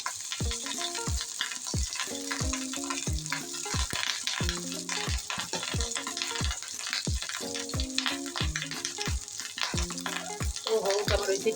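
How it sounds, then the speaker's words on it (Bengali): Pitha fries in a pan with a continuous sizzling hiss, heard beneath a rhythmic melodic tune that repeats at a steady pace throughout. "আমার ওই পিঠে ভাজা।"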